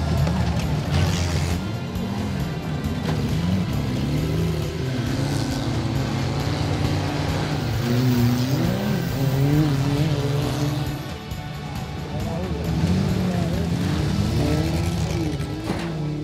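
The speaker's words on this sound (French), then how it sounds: "Viennent enfin les reines du spectacle, les antiques Renault 8." Old Renault 8 cars racing in a banger carrousel on a rough track, engines revving and droning continuously with shifting pitch as several cars pass, steady and fairly close with a brief dip midway.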